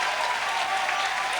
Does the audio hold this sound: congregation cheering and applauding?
yes